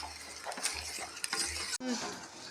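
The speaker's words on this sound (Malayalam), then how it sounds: "ശർക്കര പാനി ഉരുക്കി ഇതിനകത്തേക്ക് പാലിനകത്തേക്ക് ചേർക്കുകയാണ്" Melted jaggery syrup poured and stirred into milk in a pot, with soft scraping and swirling strokes, a faint sizzle and a sharp clatter partway through, close by with no talk.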